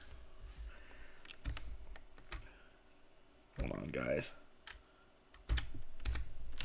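Bursts of typing on a computer keyboard, with scattered clicky key presses between pauses and someone speaking briefly over them.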